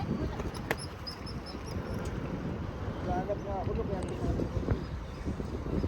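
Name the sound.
wind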